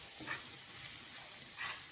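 Capsicum sautéing with salt in a pan, a steady close sizzle and frying hiss with soft stirring scrapes swelling now and then, no voices.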